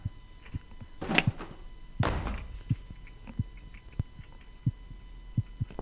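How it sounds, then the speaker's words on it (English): Faint heartbeat thuds pulse at a steady rhythm in the horror adventure game The Cat Lady, under a low hum, with two brief louder knocks near the start. "Is that heartbeat again?"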